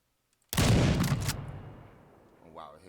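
A sniper rifle fires in a video game: one sudden loud blast followed by a brief burst of rapid reports, then a long fading echo, with a voice faintly at the end.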